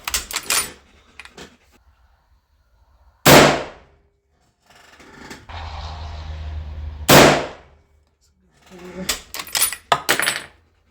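A WWII sniper rifle fires two loud, sharp reports about four seconds apart, each with a short echoing tail, amid quieter clicks and handling noises before and after.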